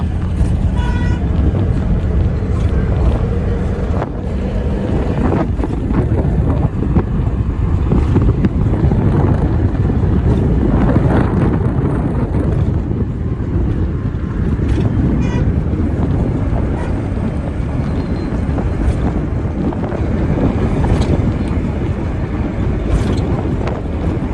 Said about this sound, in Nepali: माई खोला धमाधम यहाँ भइरहेछ